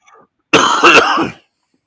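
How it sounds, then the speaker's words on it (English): A single harsh cough or throat-clearing bursts out close up, brief and loud, with silence on either side. "You start coughing."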